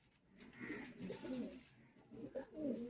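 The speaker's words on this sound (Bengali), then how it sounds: "পায়রাগুলো কিন্তু সব সুন্দর আছে" Pigeons kept for sale coo softly and repeatedly at close range, low throaty burbles overlapping across the whole stretch with no talk.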